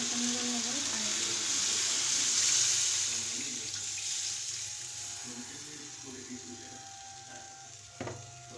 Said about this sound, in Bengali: চলো এখন পানি দিই।